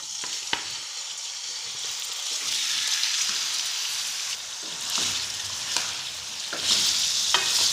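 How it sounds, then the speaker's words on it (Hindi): Chicken frying in oil with fried onions for chicken korma, a steady broadband sizzle with occasional stirring clatters, close and moderately loud with no talking. "इसी के अंदर हम ये चिकन शामिल कर देंगे और इसको अच्छी तरह फ्राई कर लेंगे"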